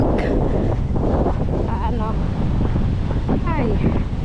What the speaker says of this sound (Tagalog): ay, taas ng hangin